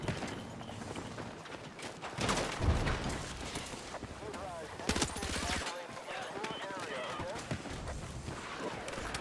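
Gunfire from Battlefield 6 rattles in loud bursts and sustained volleys, mixed with other battle noise while a player talks over it.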